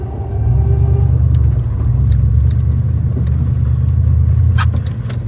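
A four-wheel-drive truck plowing deep snow, its engine rumbling low and steady close by for several seconds, with scraping and a few clicks and knocks over the drone.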